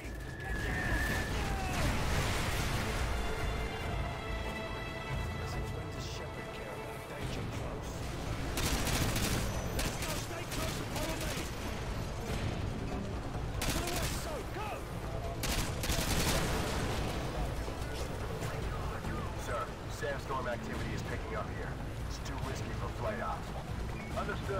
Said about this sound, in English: Fire mission. Target package Romeo. Danger close.